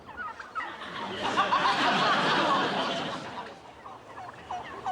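A flock of turkeys gobbles in a dense, continuous chorus of warbling calls, loud and close, swelling in the middle and then thinning out.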